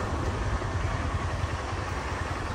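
A stopped vehicle idles on a rural road near a canal outside Madhali village, a steady low engine rumble that runs continuously and fairly close, with no talk.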